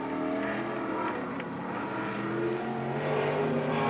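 Race cars on a dirt oval at a speedway, a continuous layered engine roar with rising and falling whines from several cars, steady and fairly loud at a distance, with no talking.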